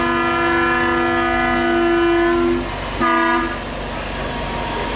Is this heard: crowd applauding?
no